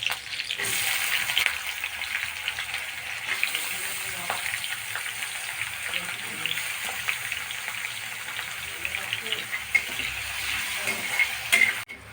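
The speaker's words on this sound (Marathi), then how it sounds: "आपला आलू छान फ्राय झालेला आहे तेलामध्ये" Potatoes and green chillies frying in hot oil for sabudana khichdi, a steady close sizzle with occasional stirring scrapes and clinks in the pan.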